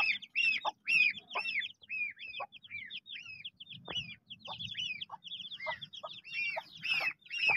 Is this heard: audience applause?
no